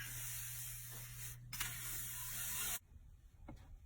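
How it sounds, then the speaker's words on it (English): A compressor air nozzle blows a loud, steady hissing jet to clear fluff and dust off a jersey framing box, with a short break partway through before the blast cuts off and faint workshop clicks follow. "Compressor. Down with fluff."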